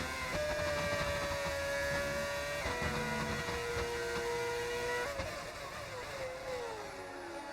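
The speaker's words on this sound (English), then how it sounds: "Why does the car sound different? We're using engine mods." A modded Formula 1 race car engine in a racing video game screams at sustained high revs with a whining, harmonic-rich tone, dropping pitch briefly as it shifts, steady and loud throughout.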